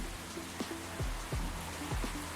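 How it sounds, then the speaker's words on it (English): Steady rain falling indoors-heard as a soft continuous hiss, with faint low thumps scattered through it. "Why is the rain so loud?"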